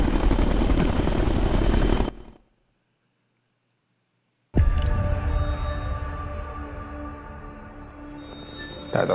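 A helicopter in the video game Ghost Recon Future Soldier roars with a loud, steady engine drone, cuts to silence for about two seconds, then returns with a whining, gradually fading rotor hum.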